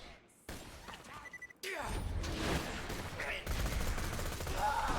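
Rapid gunfire from the Tattler SMG in Borderlands 2, dense sustained bursts with crashing impacts and whooshes layered over game noise, loud and continuous after a brief quieter start.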